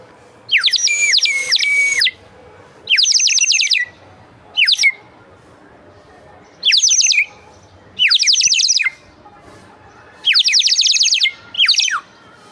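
Birds chirp in short, bright bursts of warbling trills, several loud calls spaced by quiet pauses over a faint outdoor background.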